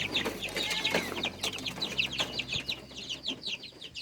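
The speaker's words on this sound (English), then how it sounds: "I think that's a little rooster." Chickens, including a young rooster, cluck and chatter in a close, busy flock, with a rapid string of short repeated calls and scattered scratching noises, no voices over them.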